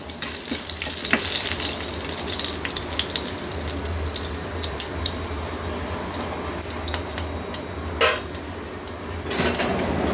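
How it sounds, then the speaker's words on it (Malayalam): Mustard seeds spluttering in hot oil in a Kerala kitchen while colocasia curry is being made, giving a soft continuous sizzle with scattered sharp pops and crackles, heard alone without talk. "കടുക് പൊട്ടി തുടങ്ങി."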